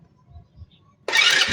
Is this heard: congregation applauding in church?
no